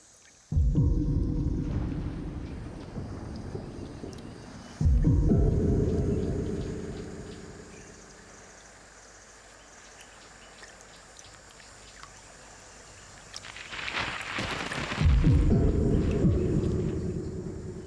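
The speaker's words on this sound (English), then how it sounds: "This rolling thunder announces a crucial event for all of the inhabitants of the river and its banks, the rainy season." Rolling thunder over a river during the onset of the rainy season, deep rumbles swelling and fading in long waves, loud and close at times, with a quieter lull in between.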